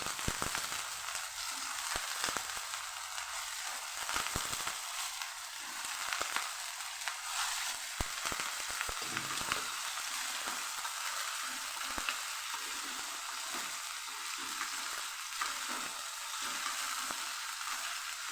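Chopped potatoes sautéing in a tempered pan with chili-ginger paste, a faint, steady sizzle with a few stirring scrapes, heard alone with no voices for the whole stretch.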